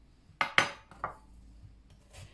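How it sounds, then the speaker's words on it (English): A knife chops a courgette into rough sections on a board, producing a few sharp, close knocks spaced unevenly, with quiet pauses between. "So I'm just going to chop this up"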